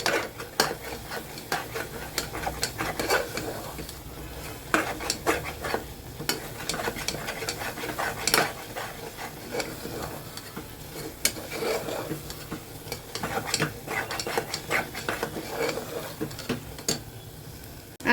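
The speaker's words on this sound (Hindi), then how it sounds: "बेसन डालने के बाद भी हमें चलाते हुए इसको भूनना है" Kebab meat being stirred and roasted with gram flour in a pan over a low flame, with soft continuous sizzling punctuated by repeated scraping and clinking of the spoon against the pan.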